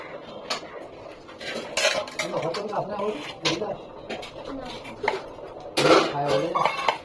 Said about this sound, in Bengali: আলু কাটছি